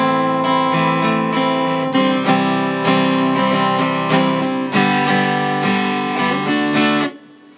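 An electric guitar played through a Boss GT-1 multi-effects unit with only reverb on sounds out clear sustained chords and notes in a loose rhythm, ending with a reverb tail as the last chord decays.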